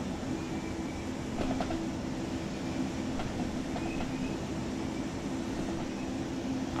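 Intercity passenger wagons roll along in a Train Sim World 3 railway simulation, a steady low rumble with soft rhythmic clicks of wheels over rail joints and faint metallic squeaks.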